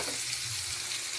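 Tomatoes sauté and are stirred in a pan for a Bicol dish, a steady loud sizzle and crackle that runs without a break and with no voices.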